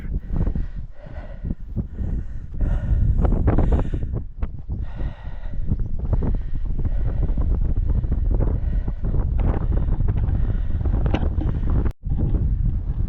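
Loud, continuous wind buffeting the microphone in the Assa gorge in Ingushetia, rumbling and roaring throughout with gusty swells and one brief dropout near the end.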